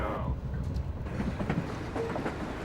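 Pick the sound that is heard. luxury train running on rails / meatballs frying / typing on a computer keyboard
luxury train running on rails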